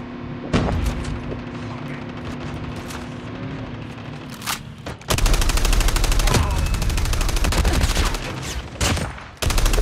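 Gunfire in Call of Duty Mobile during squad play, starting with scattered single shots over a helicopter drone, then giving way to loud sustained automatic bursts near the listener, with sharp cracks and brief gaps.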